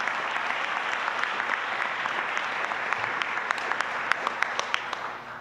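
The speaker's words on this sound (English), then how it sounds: "Give him a round of applause." A large audience applauds steadily and loudly at the Invent Idaho State Finals awards ceremony, a dense, sustained wash of many hands with a few sharper individual claps standing out near the end.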